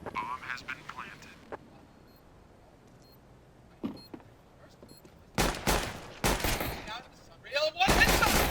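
Counter-Strike gunfire on de_cache during a competitive match: a few isolated shots early, then dense loud bursts of rapid fire in the second half, with an excited caster talking over the action.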